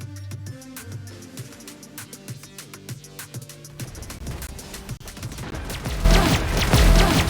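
Rapid bursts of gunfire in a Valorant esports match, starting as scattered shots and rising into a dense, loud volley toward the end, with music-like tones underneath.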